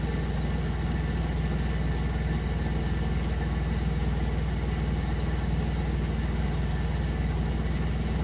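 A Peterbilt truck engine idles with a steady, low diesel rumble and fine rapid pulsing, constant in level throughout with no voices.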